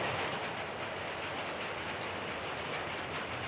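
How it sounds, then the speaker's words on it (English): Subway cars roll along rails with a broad, steady rumble and hiss, continuous and faint, with no voices. "Subway cars."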